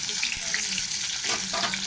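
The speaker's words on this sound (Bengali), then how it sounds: "আমি বেগুনগুলো এক এক করে ছাড়বো। বেগুনটাকে একটু লাল করে ভাজতে হবে আলাদা।" Eggplant pieces frying in hot oil, a steady bright sizzle throughout with a few soft stirring knocks, close and continuous with no talking.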